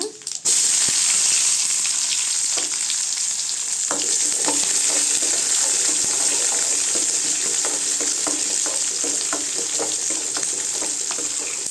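Dried red chillies and onion fry in hot oil with a loud, close, continuous sizzle, dotted with small clicks and scrapes from stirring.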